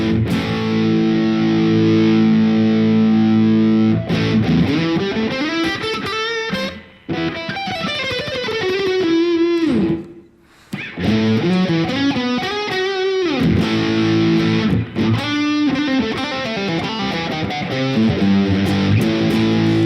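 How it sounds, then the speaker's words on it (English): Electric guitar driven through a Boss DS-2 Turbo Distortion pedal, heavily saturated chords and bending lead lines with sustained fuzzy harmonics, brief pauses between phrases, loud and up front with no talking. "all the distortion is coming from this pedal"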